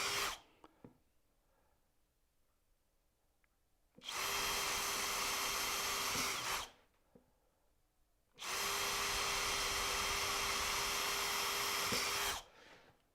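A power drill bores holes in wood for a dovetailed keepsake box, two sustained whining runs of about three and four seconds separated by quiet pauses with small handling knocks, close and loud.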